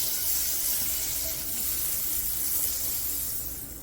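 Butter sizzles on a hot skillet while making peanut butter French toast, a bright, steady hiss that fills the upper range close up and fades slightly at the end, with no talking.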